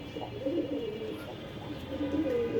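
Pigeons coo in low, rolling calls repeated through the clip, close by and fairly clear over a steady background hum, with several birds overlapping.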